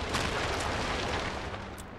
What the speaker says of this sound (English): you want to run out of the back so you don't get knocked down by the explosion